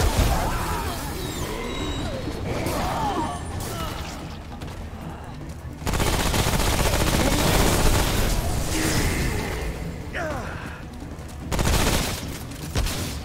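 Heavy gunfire in the game Remnant: From The Ashes, with dense, loud volleys that continue throughout, surging in two intense bursts and easing between them, alongside booms and crashes; a voice speaks briefly.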